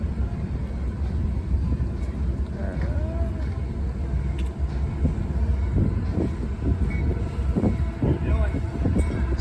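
A southbound CSX freight train led by a CM44 rebuild locomotive rolls past at a street fair in Glendale, Ohio, a loud rumbling mass of wheel and engine noise with scattered clanks, nearby crowd and voices mixed in.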